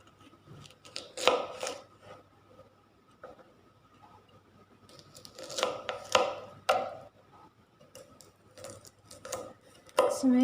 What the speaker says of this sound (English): then chop it like this.